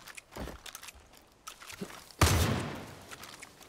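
A shotgun blast goes off in the video game Far Cry 5, one loud broadband boom with a long decaying tail, coming after a few fainter thuds and footstep-like taps.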